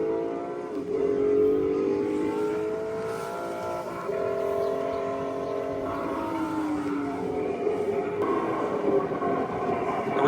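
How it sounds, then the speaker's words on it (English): Rumbling engine of a tractor ride at an ice cream farm, a steady droning motor with shifting pitch as it moves along, fairly close and continuous, with faint voices in the background. "It's like a Fred Flintstone tractor, isn't it, James?"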